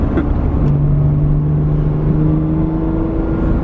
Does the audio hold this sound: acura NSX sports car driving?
yes